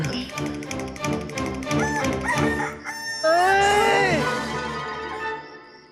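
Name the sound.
rooster crowing in the morning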